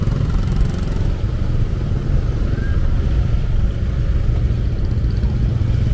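Congested city-centre street in Bandung on a drizzly holiday, a steady dense rumble of engines from trucks, buses and cars, with an air-brake hiss rising over the continuous low roar of stalled traffic.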